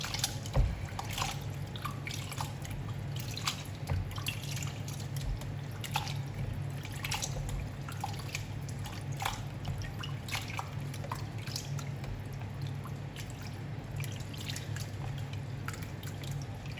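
Small dried anchovies (dilis) are rinsed under running water while making bagoong, with a steady close trickle and splash, occasional drips and light handling noises, and no voices.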